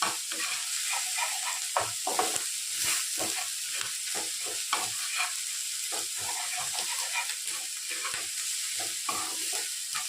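Onion and garlic fry in a pan with a steady, close sizzle, joined throughout by repeated short scraping strokes of stirring.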